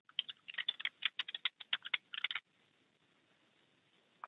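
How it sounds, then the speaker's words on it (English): Rapid keystrokes on a computer keyboard while an email user is entered into a document-drafting form, a dense burst of clicks for about two and a half seconds, then near silence with one last tap. "typing an email user at that institution"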